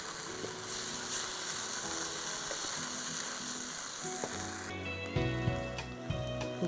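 Chickpeas sauté in a pan with a steady, close sizzle and light stirring scrapes. Partway through, a tonal hum with clinking comes in over the frying, and there is no talk.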